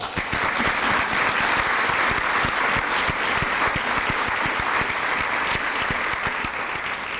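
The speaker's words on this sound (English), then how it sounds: "that deserves a round of applause" A large audience at a university dedication celebration breaks into sustained applause, dense rapid clapping from many hands that fills the hall evenly for several seconds.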